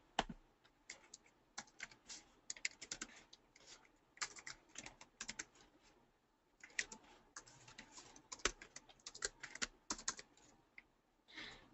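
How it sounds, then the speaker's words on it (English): Rapid bursts of typing on a computer keyboard while entering numbers into an Excel spreadsheet, close and crisp clacking in uneven runs with short pauses, no voices. "as you are typing"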